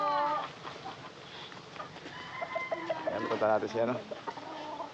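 Chickens clucking around a rural Filipino home, soft repeated clucks and short calls close by, mixed in with a woman's and a man's conversation throughout.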